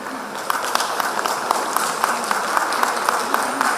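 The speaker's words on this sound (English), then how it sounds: "Give a thunderous applause." Audience applause at an international conference on digital transformation, as a keynote speaker is felicitated: steady clapping from a hall crowd, fairly loud and continuous, with sharper individual claps standing out.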